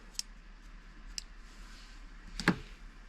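Scissors cutting a crochet yarn tail on baby mittens: a few faint, close snips, with one slightly louder cut near the end over a quiet room.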